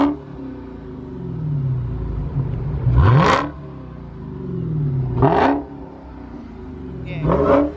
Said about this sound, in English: Put it in track, rev it up.